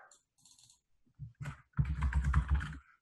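Typing on a computer keyboard, a few sparse taps then a dense quick run of keystrokes, close and moderately loud.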